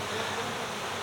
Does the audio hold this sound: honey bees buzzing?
yes